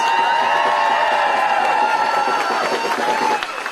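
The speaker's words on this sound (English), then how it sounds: "let's give them a big round of applause" A voting rights rally crowd at the Texas capitol cheering and applauding, a loud continuous roar of clapping mixed with shouts and whoops that stays strong and dips slightly at the end.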